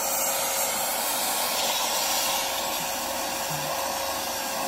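A small, cheap handheld car vacuum cleaner runs continuously with a loud, steady airy whine and hiss, close to the listener, with no voices.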